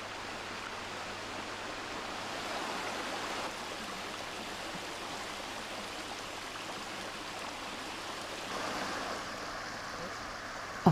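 The Túr river in Transylvania flows over a gently sloping stretch past large boulders, producing a steady, broadband rushing murmur that holds constant throughout with only slight swells and no voices.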